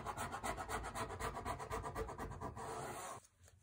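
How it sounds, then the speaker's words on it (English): A leather roughing tool with a square edge scrapes steadily along a ruler in rapid repeated strokes, a close, fairly quiet rasping rub that stops abruptly near the end. "to do the roughing, you can use a roughing tool such as this one"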